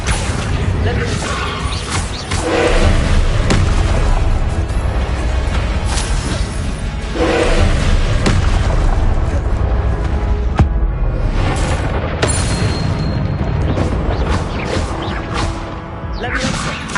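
Loud, dense bursts of Confringo explosion spells in the Hogwarts Legacy video game, with crashes, thuds and whooshing impacts across the whole stretch, under spoken spell calls.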